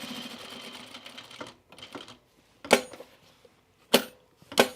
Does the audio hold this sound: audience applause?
no